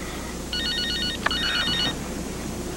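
Telephone rings in a hospital setting: a single electronic trilling ring lasting about a second and a half, moderately loud over steady low room noise.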